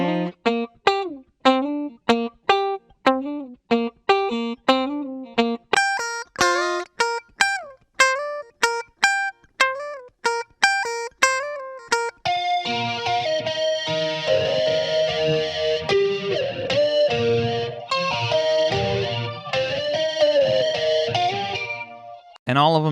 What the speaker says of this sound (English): the next bit of guitar I'm going to call the twinkly bits